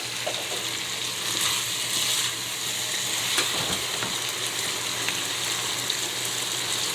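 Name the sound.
tomato frying in oil to a thick sauce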